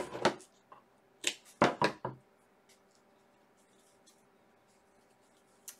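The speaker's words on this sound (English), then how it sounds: "I'm going to cut the ends of this jute off." Scissors trim the loose ends of jute twine tied into a bow on an Easter basket decoration: a handful of crisp, close snips in quick clusters near the start, then near silence.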